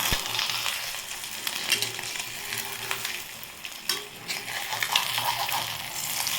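An egg fries in a pan and is turned over, a continuous crackling sizzle with a few light utensil taps and scrapes, close and steady throughout.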